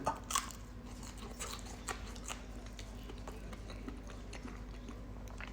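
Crunchy homemade salt and chili chips, French fries cooked in a UK Ninja Foodi, being bitten and chewed close up, with a few crisp crunches early on and then quieter chewing, no talking.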